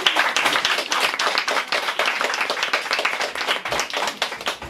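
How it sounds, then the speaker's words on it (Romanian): An audience at a small bookshop venue in Calafat claps for Maria Timuc, a dense, lively round of applause that stays loud and even throughout. "Vă rog să mai aplaudați o dată, Maria Timoș."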